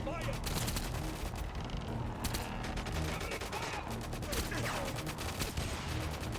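Heavy crossfire in GoldenEye 007: Reloaded, rapid bursts of automatic gunfire and sharp single shots rattling continuously and loudly from several directions, with no letup.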